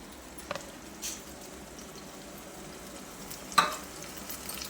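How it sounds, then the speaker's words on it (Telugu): Masala spices with a little added water fry in a pan for Karnataka vegetable sagu, a soft, steady sizzling hiss broken by a few faint stirring clinks. "ఏగుతుంది అన్నమాట మసాలా"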